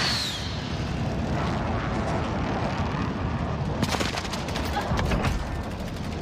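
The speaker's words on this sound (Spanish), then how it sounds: "Atención, ataque aéreo de precisión aliado en camino." A precision airstrike in Call of Duty Warzone sounds as a loud, continuous roaring rumble that turns into rapid crackling bursts of explosions and gunfire in the second half.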